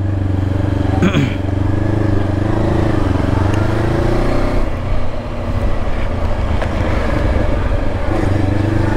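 A Voge 525DSX motorcycle engine drones steadily at riding speed, loud and close, its pitch rising and falling slightly as the throttle shifts, with wind rush over it and a brief dip midway.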